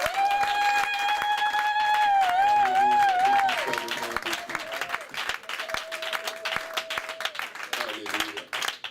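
A church congregation at a francophone Christian conference in Montréal-Nord claps and cheers in praise, a loud continuous wash of applause carrying under a sung or held voice that fades after a few seconds.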